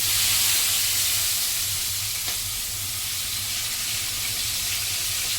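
Chopped onions and tomatoes hitting a hot pan, a steady broad hiss of sizzling with a low hum underneath, close and unbroken throughout.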